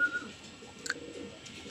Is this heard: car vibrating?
no